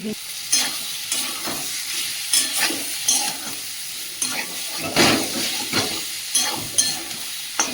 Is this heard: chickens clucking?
no